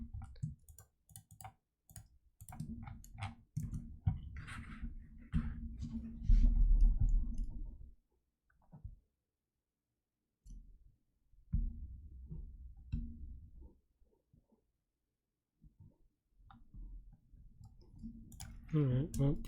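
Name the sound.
mouse clicking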